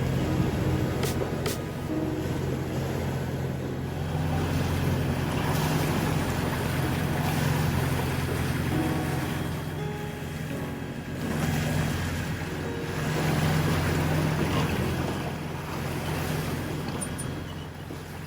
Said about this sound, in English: Suddenly we were too close, not one but two boats in the fog.